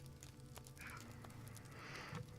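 Riding horse hooves in the Lord of the Rings Online game, a soft rhythmic clopping gait running steadily under faint background sound.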